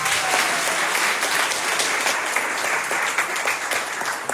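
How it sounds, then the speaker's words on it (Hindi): An audience claps at a Mata Ki Chowki devotional gathering in Shane Park, Sydney, producing dense, sustained, loud applause that fills the whole stretch evenly with no talk over it. "एक बार बढ़िया ताली बजाएं।"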